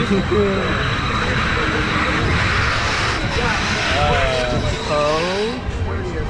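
Tidal Twister amusement ride running at a theme park, a steady loud mechanical roar with rising whooshes throughout, while people talk and exclaim over it.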